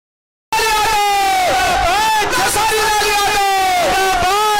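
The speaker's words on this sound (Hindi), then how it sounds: "उठाइए दोनों हाथ, तालियां होनी चाहिए भारत के भविष्य आदरणीय अखिलेश यादव जी के लिए" A crowd at a political rally erupts in loud cheering and chanting voices, a sustained roar of many people shouting together close by after a brief silence.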